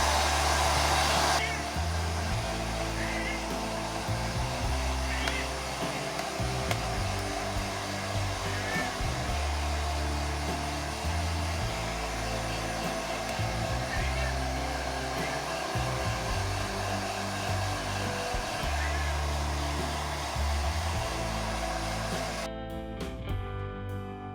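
A hair dryer blows loudly and steadily at close range while drying a freshly bathed cat during brushing, its pitch shifting slightly as it moves, with brief talk near the start.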